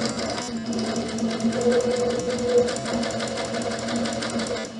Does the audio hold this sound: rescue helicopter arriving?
no